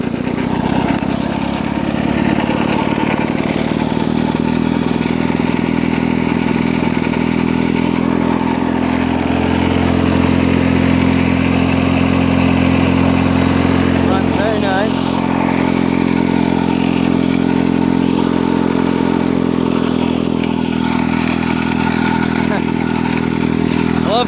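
A 1964 Lawn-Boy 8222 Automower two-stroke mower engine runs steadily and loud for the whole stretch, a buzzing, rattling idle that holds without pauses and shifts only slightly in pitch.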